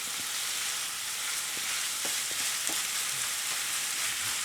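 Italian sausage sizzles and fries in a pan with a steady hiss and a few soft pops and stirring clicks, moderately quiet, with no voices.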